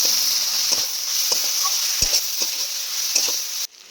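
Spiced mixture stirred over fried beans in a pan for tilapia fish curry, a steady sizzle running throughout with several scraping stirs of the spoon, close and fairly loud, before cutting off abruptly near the end.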